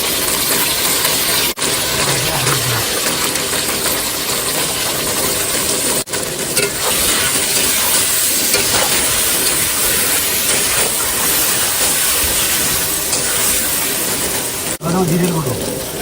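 Ginger paste goes into a pan of frying fish curry, setting off a steady, loud hiss and crackle of sizzling oil that continues throughout, with brief clinks and scrapes of a utensil.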